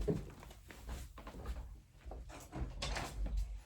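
Door opened to let a cat in, heard as a few close knocks, thuds and rattles of handling and movement over several seconds, with no talking.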